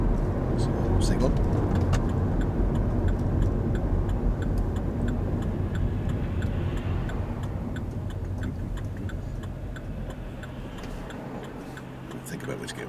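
Faint, steady ticking of a car's turn signal indicator repeats under the engine and road rumble inside a moving car during a driving lesson, with a person talking over it.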